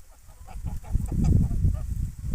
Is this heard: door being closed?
no